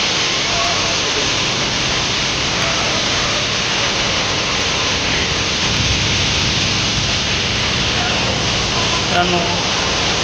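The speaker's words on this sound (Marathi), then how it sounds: "भंडारदरा या ठिकाणाजवळ वसुंधरा असा हा धबधबा आहे" Vasundhara waterfall near Bhandardara roars as a constant broadband rush of water from start to finish, while someone speaks briefly over it.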